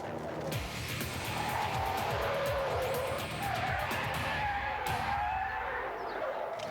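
Car driven hard through a slalom, with the engine revving high under full throttle and tires squealing and skidding through the turns, loud and continuous.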